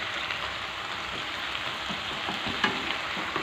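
Minced pork sizzles and crackles steadily in a hot frying pan, a dense, even hiss close by with one small pop near the end and no talking.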